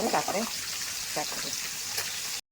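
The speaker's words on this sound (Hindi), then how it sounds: "माछ भजा सब हो गला" Fish frying in hot oil for a fish curry, a continuous bright sizzle with crackling pops throughout that cuts off abruptly at the end.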